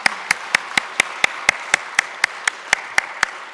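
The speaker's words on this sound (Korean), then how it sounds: "박수 한번 쳐주세요." A church congregation at a Christmas Sunday service claps in unison, a slow, steady rhythm of about fourteen sharp claps, evenly spaced and fairly close, with no talk over them.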